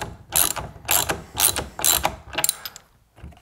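A 3/4 inch ratchet wrench loosening the steering wheel nut on a boat, five or six quick bursts of clicking pawl strokes in an uneven rhythm, close and crisp with no talking.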